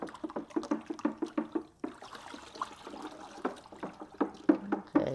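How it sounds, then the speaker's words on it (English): Flaked salt is stirred into water in a container for turkey brine, producing a rapid series of close splashing, sloshing strokes that pause briefly and resume, with no talking. "Now once you put the salt in there, you just have to stir it for about a minute to let it dissolve."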